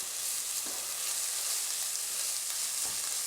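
Garlic and chilli frying in a pan for venison samosa filling, a steady bright sizzle throughout with a couple of soft scrapes as it is kept moving, no talking.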